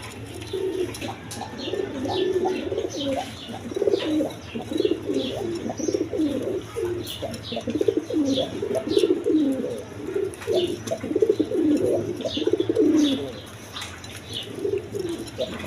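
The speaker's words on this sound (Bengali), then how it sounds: "একদম বিগ সাইজের দেখার মতো কবুতর" Large pigeons at a Bangladeshi pigeon seller's coop coo steadily and overlap in a dense, low, throaty chorus, with a few faint higher chirps over a constant low hum.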